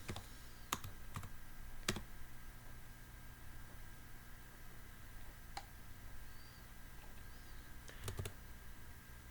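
Quiet, sparse typing on a computer keyboard: scattered key clicks with a few sharper taps, separated by pauses over faint background hiss.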